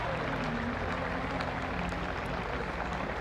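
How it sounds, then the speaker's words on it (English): A stadium crowd applauds steadily as an injured player leaves the pitch during a schools under-15 cricket cup semi-final, a dense, continuous wash of clapping at even loudness throughout. "a superb round of applause from everybody in the stadium"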